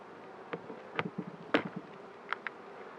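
Honeybees buzz during a full beehive inspection, a soft continuous drone with several individual bees zipping close by in brief louder passes.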